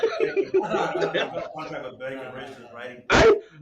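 A single sharp sneeze bursts out near the end, following a stretch of people talking and chuckling.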